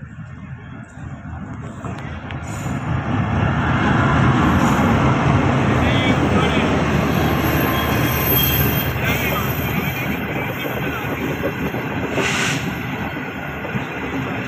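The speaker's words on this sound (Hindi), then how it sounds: "Karachi jane ke liye ek lambe arse ke baad Raiwind railway station pe aa rahi hai." Shalimar Express, on its restored inaugural run to Karachi, arrives at Raiwind railway station with a steady rising rumble of wheels and carriages. Faint squeals and station noise sit over it, loud and close throughout.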